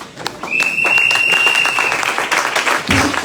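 A church congregation breaks into loud, sustained clapping to acclaim the Lord, filling the room with dense applause and a raised vocal cry over the top.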